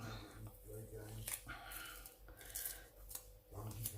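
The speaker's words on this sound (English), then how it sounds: "I'm going to have to cut it and cut it down to size." Scissors snipping craft material while making a shaker pocket, several separate cuts with soft crunching snips spaced about a second apart, heard close against a faint background hum.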